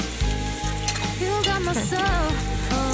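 Ginger and green chili sizzle and fry in a pan with steady crackling, joined by a few stirring scrapes; loud and close, and there is no talking.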